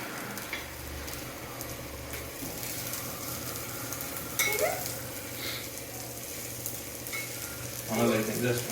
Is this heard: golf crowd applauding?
no